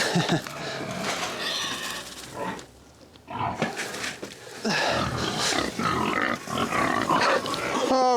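Pigs grunt and squeal at evening feeding while powdered feed is scooped out, a busy, loud chorus of overlapping grunts with a brief lull midway, close by.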